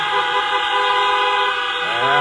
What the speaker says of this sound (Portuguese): Dá uma buzinada aí